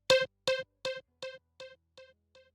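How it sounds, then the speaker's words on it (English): A single short sound is played through a delay effect in Ableton, repeating about seven times at an even pace. Each echo is quieter than the last until it fades out, with no voices. "if we play a certain sound and use the delay, it will sound like this"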